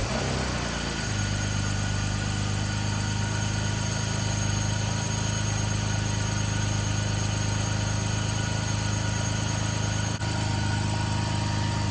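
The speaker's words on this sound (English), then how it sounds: "I'm gonna go ahead and start the engine" Engine of an abandoned 2004 BMW 325ci E46 starts and then settles into a steady idle with a constant low hum. It stays loud and close for the whole stretch, with no voices.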